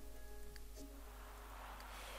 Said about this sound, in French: en espérant qu'il s'arrête vite de pleuvoir